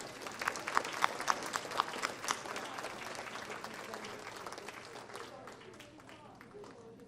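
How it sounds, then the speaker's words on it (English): Audience applause welcoming a speaker at a university lecture, a room of clapping that starts with a few sharp claps, swells briefly and then slowly fades over several seconds. "Let's give a rounding applause of welcome to Dr. Lafferty."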